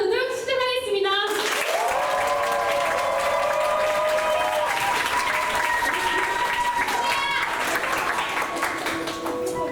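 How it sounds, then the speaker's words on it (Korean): A theater audience at a junior musical performance of 'Time Thief' bursts into sustained applause and cheering, with dense clapping throughout and held musical tones and shouts rising over it. "저희 배우들이 힘을 낼 수 있도록 많은 함성과 박수 부탁드립니다"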